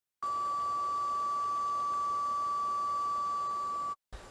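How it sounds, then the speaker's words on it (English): Constant electrical hum inside an off-grid RV, heard as a single high, steady whine that holds unchanged for several seconds and then cuts off abruptly. "it used to make like a constant hum, like tinnitus times 20? Yeah, it's doing it now"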